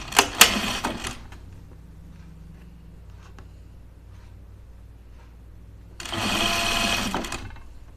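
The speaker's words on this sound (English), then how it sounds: "So now we're going to sew our collar to our edge there." A sewing machine stitches a collar onto a sweatshirt neck edge, running in two loud bursts, one at the start and one near the end, with a quiet pause between.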